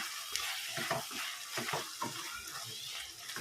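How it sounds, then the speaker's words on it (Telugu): Ivy gourd and egg curry being stirred in a pan after coriander goes in, with repeated close scraping strokes over a steady soft sizzle and no talking. "కొత్తిమీర వేసేసి కలిపేసుకోవాలి"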